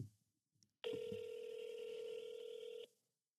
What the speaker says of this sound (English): They didn't answer. They gotta answer the phone.